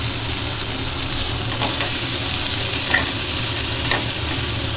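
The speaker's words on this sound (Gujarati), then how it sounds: "તો બધું આપણે શાકભાજી નાખી જ દઈએ છીએ, અને આ સરખું સાતળી લેશું આપણે સરસ મજાનું" Chopped vegetables sauté in a hot pan for noodles, giving a steady loud sizzle with a few soft stirring scrapes, close up and continuous.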